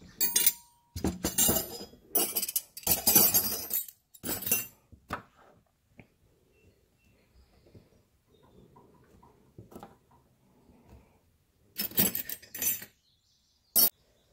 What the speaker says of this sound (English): We're going to put the regular 10 combination wrench, and I'm going to put the ratcheting 10